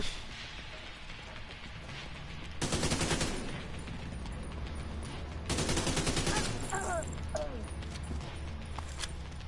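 An automated turret in The Division 2 fires two long rattling bursts, each a few seconds of rapid shots, loud and close, separated by quieter stretches of game ambience with faint mechanical chirps.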